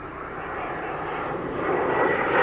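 An F-86 jet fighter passing at an air show, a steady broadband engine roar that swells gradually louder toward the end, with no voices over it.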